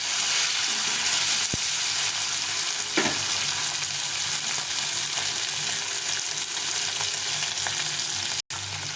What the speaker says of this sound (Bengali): এখন এই টমেটোটা দিয়ে দেব। একটা টমেটো কেটে রেখেছিলাম, এটা দিয়ে ভেজে নেব।